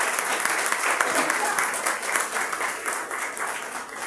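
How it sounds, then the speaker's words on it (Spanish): A church congregation breaks into strong, sustained applause, a thick continuous clatter of many hands at fairly high volume that holds steady for several seconds. "Denle fuerte aplauso a Dios."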